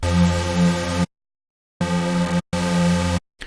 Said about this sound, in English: You can hear that the noise is giving some extra sort of hiss up the top.